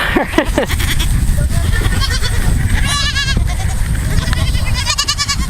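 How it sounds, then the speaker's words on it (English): Myotonic fainting goats, also called Tennessee fainting goats, bleat loudly and close by in a Green Mountains setting, with several wavering calls overlapping a constant rustle of outdoor farm noise. "Myotonic goats go by many names. Stiff goats, nervous goats, Tennessee fainting goats"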